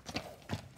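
A sorrel quarter horse stud trots past with two distinct clip-clop hoof beats about half a second apart, fairly close and moderately loud over faint background noise.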